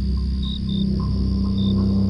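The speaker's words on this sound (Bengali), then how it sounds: "বাইরে ঝিঝি পোকার ডাক আর হালকা বাতাসের শব্দ শোনা যাচ্ছে।" Crickets chirping at night as a cartoon sound effect, repeated short high trills over a steady low hum, fairly loud and close, with no voice over them.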